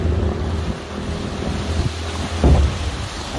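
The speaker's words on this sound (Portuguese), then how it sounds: "Olha o barquinho de motor desse," A small motorboat runs along a flooded street in Rio do Sul, Santa Catarina, its low, steady engine drone blending with water wash and wind rumble close to the microphone.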